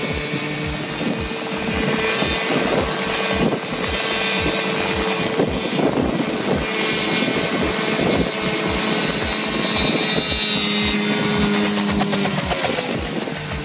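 A homemade helicopter built from heavy, polished metal parts with small rotor blades runs loudly and steadily, its engine droning under a rapid rhythmic rotor chop throughout.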